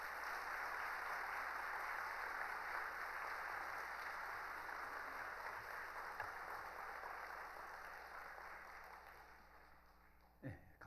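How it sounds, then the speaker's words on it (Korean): A church congregation at an ordination service claps steadily to welcome the pastor, a broad even wash of applause that slowly fades toward the end before a brief thump. "우리 박수로 우리 목사님 환영하겠습니다"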